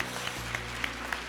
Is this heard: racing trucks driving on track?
no